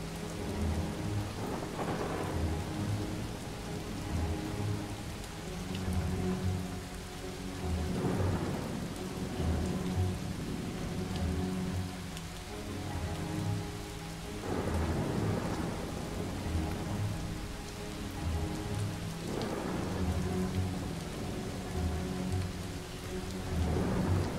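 Steady heavy rain with repeated low rolling thunder claps every few seconds, a continuous storm in the video game Far From Noise, loud and enveloping with no voices.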